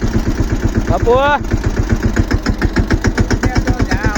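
A tractor engine idles nearby with a loud, steady low chugging pulse, while a voice cuts in briefly over the running motor.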